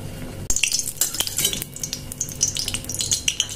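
Prawns seasoned with turmeric and salt hit hot oil in a wok with a sudden loud sizzle that keeps crackling and popping steadily, with occasional clinks of a utensil against the pan.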